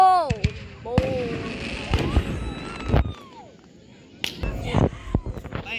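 Fireworks in North Carolina burst in a quick run of sharp bangs and crackles, several loud pops close together, then a pause and another cluster, with people talking and exclaiming between the blasts.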